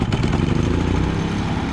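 A Predator 3500W inverter generator firing up and running, a close, loud, rapid engine chug that settles into a steady, even running drone.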